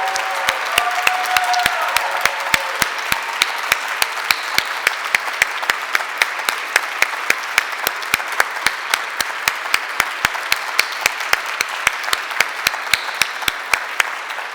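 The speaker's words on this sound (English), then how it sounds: "let's have one last round of applause for these wonderful writers from Washington College" An audience gives a warm round of applause for student writers at the 2013 Sophie Kerr Prize ceremony, a dense steady roar of clapping filling a hall, with a sharp rhythmic clicking ticking through the whole stretch.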